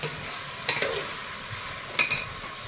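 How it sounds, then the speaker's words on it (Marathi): Soft sizzling of chicken frying in oil, with two sharp scraping stirs of a utensil in the pan, fairly close. "तेलामध्ये चांगलं फ्राय होतं"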